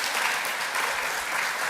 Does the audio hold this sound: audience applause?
yes